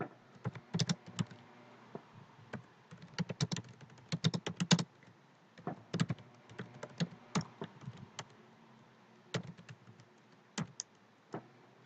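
Typing on a computer keyboard while writing PHP code: bursts of quick, crisp key clicks with short pauses between runs, close and clear, and no talking.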